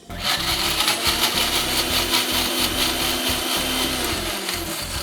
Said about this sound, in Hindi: इसको आपने मिक्सी में पीस लेना है।